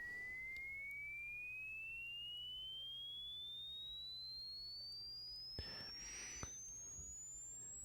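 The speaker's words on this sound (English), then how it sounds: "listen to sine waves harassing you so harshly" A single pure sine tone glides slowly and steadily upward in pitch, faint over low background hum, with a couple of soft knocks near the end.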